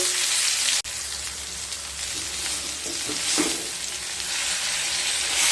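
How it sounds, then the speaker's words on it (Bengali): Pieces of pointed gourd (kakrol) fry in oil, giving a loud, dense, continuous sizzle close by, broken by a brief sharp cut near the start and soft stirring scrapes later, with no talk. "এগুলোকে খুব ভালোভাবে ভেজে নেব কাঁকড়গুলোকে ভালোভাবে ভেজে নিয়ে তারপর ফিরে আসছি"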